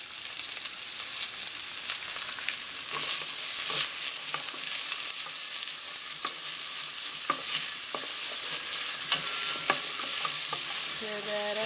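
Soup vegetables seasoned with salt and pepper sizzle loudly and without pause in a pot. A spoon scrapes and stirs through them in repeated strokes close by, and no one speaks.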